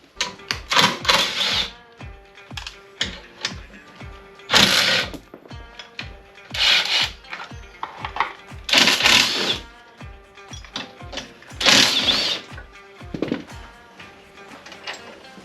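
Ratchet loosening skid plate bolts on a 2021 Polaris RZR XP 1000 Trails & Rocks during a front bumper install, heard as repeated rapid clicking bursts with short pauses between strokes, close up and alone.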